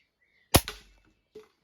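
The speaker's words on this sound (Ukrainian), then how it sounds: "Спробую зараз постріляти трішки по баночкам пляшкам." A Hatsan mod. 25 air pistol fires once at cans, a sharp close crack followed by a short rattle, then a fainter metallic tick of the pellet striking a target a moment later.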